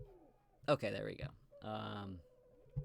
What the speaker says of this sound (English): Excuse the birds.